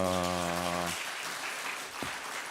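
A congregation at a Korean Methodist church service claps in a sustained round of applause that follows a sung or organ-like tone which cuts off early, the clapping steady and moderately loud to the end.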